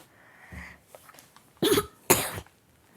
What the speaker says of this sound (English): How do you cough?